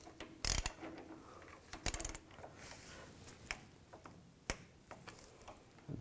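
Torque wrench tightening a sway bar link nut to 89 inch-pounds on a 2004-14 GMC Yukon: a few sharp metallic clicks and short ratchet bursts, spaced irregularly over quiet background, close and faint, no talk.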